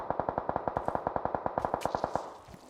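Rapid automatic gunfire in a video game, roughly twenty evenly spaced shots in a tight burst lasting over two seconds, loud and close with a slight echo, then thinning out at the end.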